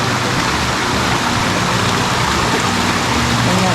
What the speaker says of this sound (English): this little creek, guys